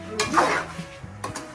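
Adobo gets stirred in a pan with a couple of quick scraping strokes and a light sizzle, close and brief, with no talk.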